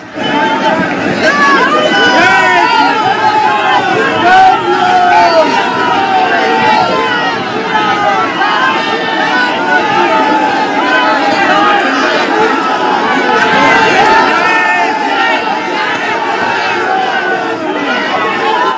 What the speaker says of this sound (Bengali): মুখে জয় শ্রীরাম স্লোগান বলে তাণ্ডব